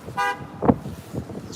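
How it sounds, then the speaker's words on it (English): A truck horn honks in traffic: a short, bright toot comes first, then a further honk over the rumble of vehicles nearby. "This truck's honking."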